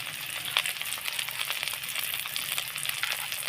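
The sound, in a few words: frying spice masala with turmeric, chili powder and salt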